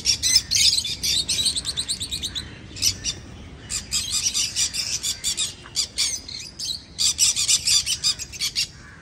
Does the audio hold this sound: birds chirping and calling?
yes